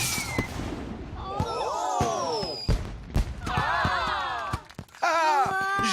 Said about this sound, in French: Et maintenant, place au feu d'artifice géant.